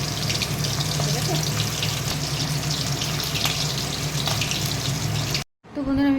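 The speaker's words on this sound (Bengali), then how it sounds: "মাছ দিয়ে দিচ্ছি তেলের মধ্যে, তেলটা একটু বেশি করে দিয়েছি" Fish fries in plenty of hot oil, a loud, dense, close sizzle that runs steadily and then cuts off sharply near the end.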